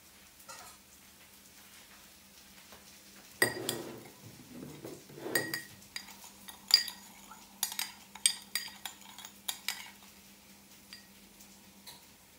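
Mushroom burger mix with Italian spices is worked in a dish, with quiet tapping followed by a run of irregular clinks and scrapes of a utensil against the dish, close and fairly faint.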